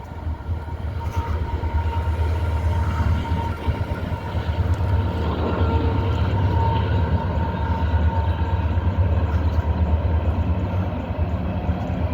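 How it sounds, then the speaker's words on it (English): A long coal train rolls in from the left toward a rail depot, a steady loud rumble of wagons and locomotive that holds throughout with a faint tonal whine above it. "I hear a train coming in from the left"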